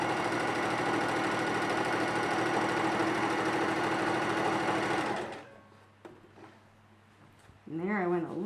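A sewing machine stitches a dress hem in a fast, steady whirring run for about five seconds, then stops, leaving a quiet pause and a voice briefly speaking near the end.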